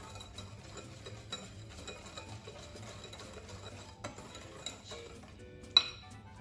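A spoon stirs chocolate chip mug cake batter in a mug, giving quiet soft scraping with light clinks against the sides and one sharper tap near the end.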